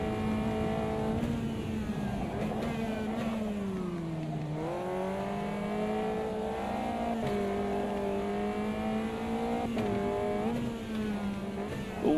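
Race car engines in a sim racing game, a loud sustained whine rising and falling through gear changes as one car slipstreams close behind another, steady and near with no talking.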